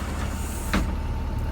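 A Florida school bus's air-powered door swings shut, giving a short, sharp pneumatic hiss and thump over the steady low idle of the bus engine, with no talking.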